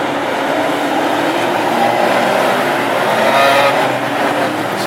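Classic hot rod race cars, including an Austin A30 with a Pinto race engine, roll around Hednesford oval on a warm-up lap: a loud, continuous blended engine roar that swells slightly, heard from trackside with no talking.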